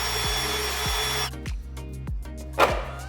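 Power drill biting into plastic on a 2014 GMC Denali truck during an air suspension install, with a steady motor whine that drops out into a series of sharp, rhythmic bursts as the bit cuts through, close and fairly loud.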